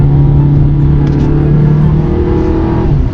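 A 2018 VW Tiguan S 4Motion engine holds a loud, steady droning rumble, heard close with no talk over it.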